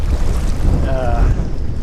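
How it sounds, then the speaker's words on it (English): Gusty wind rushes over the microphone on a lake while bass fishing from a Pelican Bass Raider 10E boat in November, a steady low roar with a faint brief whine partway through. "It's a little windy out here today"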